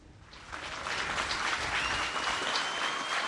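Applause from a crowd swells in after a quiet start and continues as dense, steady clapping, sounding moderately distant, as some in the audience react to the Pope's apology to Indigenous people.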